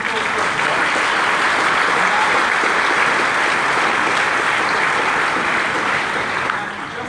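Audience applause for city leaders and Kathleen at an entrepreneur summit, a dense sustained wash of clapping from a large crowd that holds steady for several seconds and then begins to fade.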